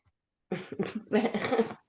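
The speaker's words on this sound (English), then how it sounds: "I still have a little bit of a chest cough" A string of rough, congested chest coughs in quick succession, close up and fairly loud, with a slight wet rasp.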